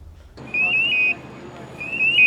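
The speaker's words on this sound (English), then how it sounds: "It was just after 4 in the morning when fire alarms sounded" Fire alarms sounding in the early morning hours before firefighters respond: a loud, high-pitched electronic tone sounds in two separate bursts, with a steady low rumble underneath.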